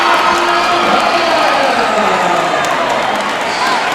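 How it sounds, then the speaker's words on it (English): Crowd at a men's college basketball game between Edward Waters College and Florida Memorial University, a steady loud roar of cheering and shouts filling the gym, with faint talk mixed in. "And now the crowd is awake"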